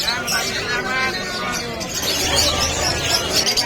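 Birds coo and chirp among many cages at a bustling pet market in Malabon, mixed with steady crowd chatter and nearby talking.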